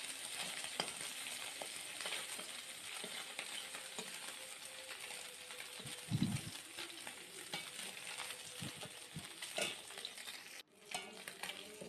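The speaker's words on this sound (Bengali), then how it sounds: "আমার মাছের এক পাশটা ভাজা হয়ে গেছে, তাই অপর পাশটা উল্টে ইচ্ছে যাতে সুন্দর করে লাল হয়ে ভাজা হয়ে যায়" Fish frying in oil in a pan crackles and sizzles quietly and steadily, with a few thumps and scrapes as pieces are turned.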